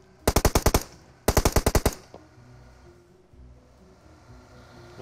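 Two rapid automatic bursts of gunfire from the battle royale game PUBG, each about six or seven evenly spaced loud shots close together, followed by a quieter game ambience with no talk.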